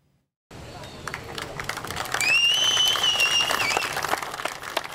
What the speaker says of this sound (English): Officer James O'Donnell greeted with a round of applause Monday outside of Farmington PD headquarters